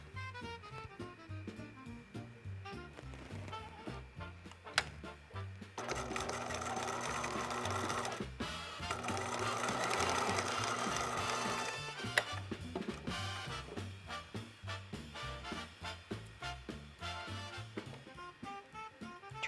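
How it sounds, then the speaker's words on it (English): Sewing machine stitching quilt squares, a steady close mechanical whir with rhythmic needle clatter that speeds up and slows between runs, with no voices. "we're going to sew from this side to this side now"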